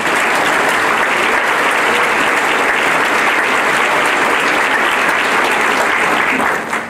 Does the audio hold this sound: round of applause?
yes